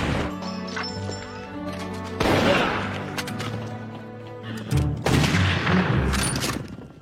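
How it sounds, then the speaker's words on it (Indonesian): Revolver and rifle gunfire in a western film shootout: repeated sharp gunshots and bursts echo back and forth among background clatter, loud and close. "Letusan revolver dan senapan pun terus terdengar sahut menyahut memecah keheningan hari."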